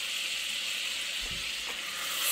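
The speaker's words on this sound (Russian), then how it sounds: "И вот здесь у меня 200 грамм масла. Мне его нужно растопить." Butter, about 200 grams, melting and sizzling in a pan on a stovetop, a steady close crackling hiss with faint occasional pops, no talk.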